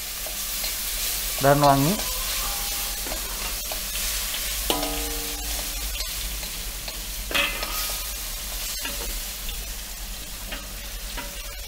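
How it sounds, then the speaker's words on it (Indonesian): Ginger and galangal sauté in hot oil with a steady close crackle, while a spatula scrapes and stirs. A few short squeaky tones cut in, and a voice speaks briefly over the frying. "Kita tumis sampai layu"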